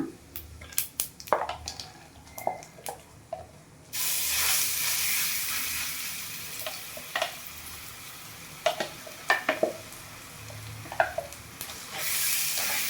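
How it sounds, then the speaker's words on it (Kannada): Urad dal and cumin frying in hot oil for a banana flower dry curry, a steady sizzle with a louder hissing burst partway through and repeated sharp spoon scrapes against the pan. "ಎಣ್ಣೆಗೆ ಚೆನ್ನಾಗಿ ಫ್ರೈ ಮಾಡಬೇಕು ನೋಡಿ ನೀಟಾಗಿ ಮಿಕ್ಸ್ ಮಾಡ್ಕೊಂಡು"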